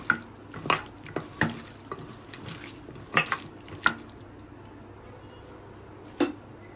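Chicken pieces mixed by hand or spoon with chilli powder and ginger-garlic paste in a bowl, giving a run of wet, sticky squelches and light knocks at an irregular pace, close and without talk.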